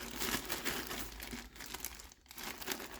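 Plastic wrapping around a new Turtle Beach Stealth 700 Gen 3 gaming headset crinkles steadily and close up, a continuous rustling with a short pause near the end.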